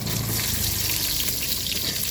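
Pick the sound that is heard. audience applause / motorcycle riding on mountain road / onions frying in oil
onions frying in oil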